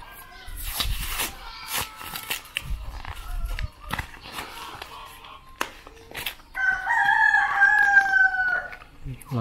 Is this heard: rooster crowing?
yes